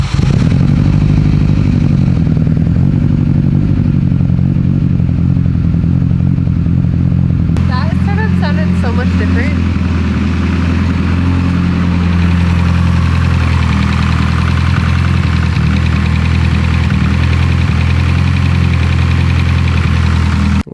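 A blown 800WHP Mitsubishi Evo X engine cranks, fires and runs at a loud, rough idle for about twenty seconds, with clattering near the start and a steady mechanical drone throughout, while people talk over it.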